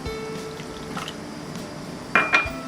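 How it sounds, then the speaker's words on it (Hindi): Half a cup of water is poured onto soaked-to-be sabja seeds in a small vessel, a soft trickling splash that ends in a couple of brief louder splashes near the end. "यहाँ पे इसमें आधा कप हम पानी डालेंगे"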